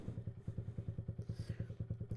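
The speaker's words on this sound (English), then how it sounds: "exhaust is not like too loud. You can actually like have a conversation next to it, but like it's got some good depth to it" A Honda Grom motorcycle exhaust idles close by with a steady, even chugging pulse, moderately loud with a deep tone and no talking.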